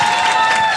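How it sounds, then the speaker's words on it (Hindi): Audience applause at a stand-up comedy show: a short, dense burst of clapping from a crowd, loud and steady throughout. "एक बार ताली बजाओ सब लोग इसके लिए। मैं ये मानती हूँ, जोर से ताली बजाओ"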